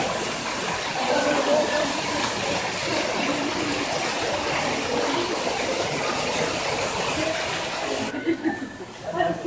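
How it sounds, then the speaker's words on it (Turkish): An artificial waterfall pours into a pool in a tropical garden with orchids. Steady, close rushing and splashing water fills the whole stretch without letup. "Ve yapay bir şelale."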